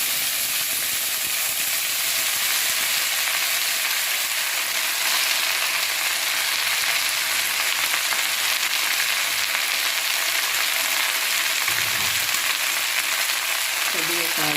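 Drumstick leaves fry with mustard seeds in oil, giving a loud, steady hiss and crackle close by that runs throughout, with a brief low stir or clatter near the end.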